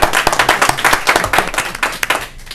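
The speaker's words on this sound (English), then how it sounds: "It calls for a little applause." A small crowd claps during a school board meeting in Newmarket, New Hampshire: brief, fairly loud scattered applause that thins out after a couple of seconds.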